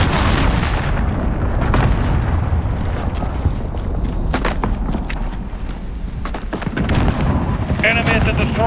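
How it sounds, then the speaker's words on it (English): A cruise missile strike in Call of Duty Modern Warfare team deathmatch, a dense continuous rumble of explosions and booms with sharp gunfire cracks layered on top, loud throughout. "Enemy cruise missile incoming."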